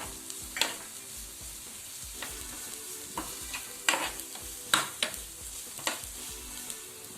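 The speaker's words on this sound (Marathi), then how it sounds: "आलं लसूण आता खरपूस भाजून झालेले आहे" Crushed ginger and garlic frying with onion in a pan for kalwa (oyster) fry, a low, steady sizzle with sharp spoon scrapes and clacks against the pan at irregular intervals.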